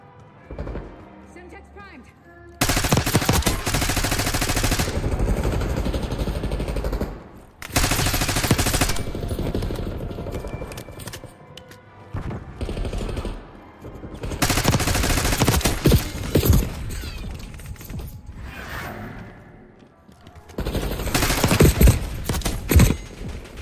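Automatic weapons fire in long, dense bursts during a Call of Duty: Black Ops 6 Face Off match on the Gala and Pit maps. Loud sustained volleys are separated by brief lulls, with talk underneath.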